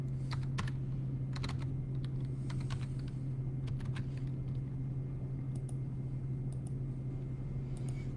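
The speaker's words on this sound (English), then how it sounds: "I could type in, for example, this meeting ID on my other computer" Keys clacking on a computer keyboard as a meeting ID is typed in, scattered taps in short bursts over a steady low electrical hum and faint room rumble, with no one speaking.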